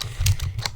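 Quick bursts of computer keyboard typing, a handful of clustered keystrokes with irregular rhythm, close up and fairly loud with no voices.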